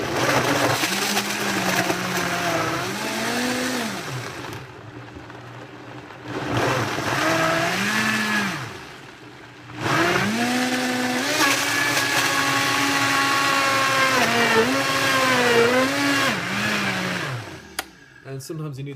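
A VitaMix blender blending fresh coconut pieces and water: a loud, close motor whine that rises and falls in pitch across three long runs separated by brief pauses, ending with a clatter.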